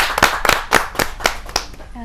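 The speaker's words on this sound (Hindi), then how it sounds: "जोरदार तालियों से आवाज दीजिए" Rhythmic clapping from the audience at a Hindi poetry gathering (kavi sammelan), sharp, evenly spaced claps about four per second, fairly close and loud, with a voice briefly present.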